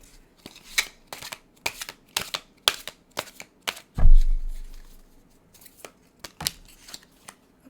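Tarot cards are shuffled in short crisp bursts of riffling and snapping, repeated at irregular intervals, with one deeper thump partway through and no talking.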